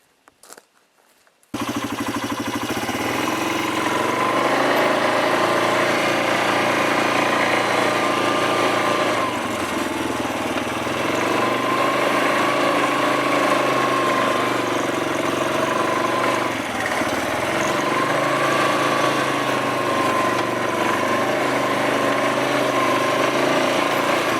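An ATV engine idles steadily nearby after a short quiet start, its even, continuous mechanical hum holding at a constant level with slight wavering throughout.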